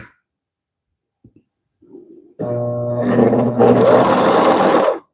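A Consew CP206RL portable walking foot sewing machine backstitching: after a few faint clicks and handling noises it starts up with a loud, rapid stitching whir that runs for about three seconds, then stops abruptly.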